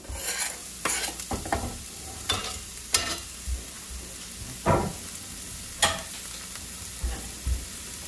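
Onions sizzle in warm olive oil in a cast iron pan, with repeated scraping and knocking of a spoon stirring them, close and fairly loud over a steady frying hiss, no voices.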